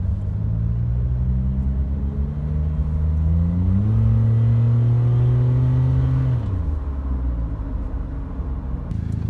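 A Suzuki Jimny's 660cc turbocharged engine runs with a steady low drone, its pitch climbing midway as revs rise, holding, then dropping back to a rumbling idle, heard close with no talking.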